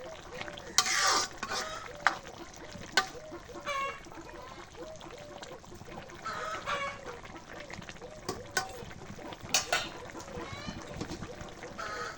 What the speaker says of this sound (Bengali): এখন তাকে একটু নাড়া দেই।